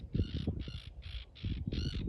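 A bird at a beach calls five times in an even series of harsh, crow-like caws, fairly near, over rumbling wind and surf noise, with no talk.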